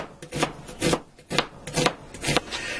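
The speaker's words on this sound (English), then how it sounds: "I have two large onions and two green bell peppers I'm going to slice up thin" Knife slicing two large onions and two green bell peppers thin on a cutting board, a steady series of rasping strokes in bursts about every half second, close and fairly loud with no talking.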